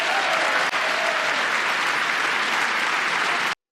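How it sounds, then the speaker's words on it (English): Republican lawmakers in a chamber clap loudly and continuously for DOGE, a thick sustained burst of many hands that runs evenly and then cuts off abruptly. "You have Republicans clapping for Doge."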